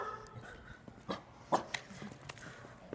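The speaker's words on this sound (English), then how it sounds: "Uh-oh, we have a doggy." A dog gives faint, scattered barks and whimpers indoors, soft and intermittent over a quiet room.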